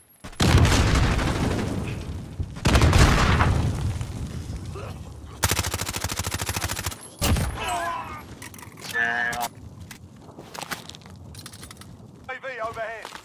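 Heavy gunfire in a Call of Duty Warzone-style quads match with Juggernauts, loud automatic bursts and booming shots in repeated clusters, with game voice lines and chatter mixed in.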